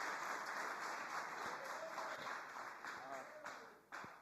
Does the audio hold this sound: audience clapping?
yes